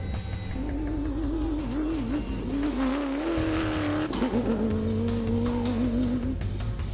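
A Dakar 2012 rally car races down a hillside with a loud, wavering engine note that rises and dips as it shifts, tire noise and gritty rumble beneath, close and steady with no speech.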